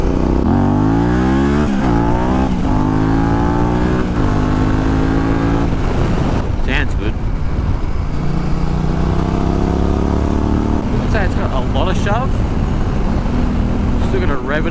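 Yamaha Tenere 700 motorcycle accelerating hard in first gear, its engine revving up in loud, rising sweeps close to the microphone, with repeated climbs as the throttle opens and closes.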